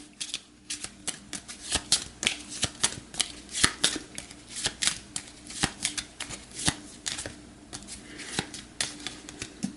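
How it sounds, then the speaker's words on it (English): A deck of cards is shuffled for a board game, giving dense rapid riffling bursts and sharp snaps in repeated rounds, close and crisp, with no voices. "So I'll give this a shuffle."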